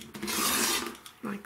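Fabric for a circle quilt block being cut with a rotary cutter along a ruler, a short close scraping slice followed by a second brief stroke, with no talk.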